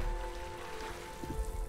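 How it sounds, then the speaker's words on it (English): Light rain falls steadily in The Wandering Village, a soft, continuous patter with a low tonal drone of game ambience beneath it, with no voices. "We're in the middle of a little light rain."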